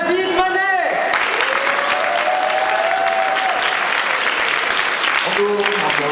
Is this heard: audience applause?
yes